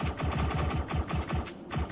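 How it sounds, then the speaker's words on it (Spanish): Rapid bursts of blaster and laser rifle fire crackle in a fast, steady rhythm, loud and close, layered over a dense hum with no talking. "Cientos de disparos de blasters y rifles láser volaban por todas partes"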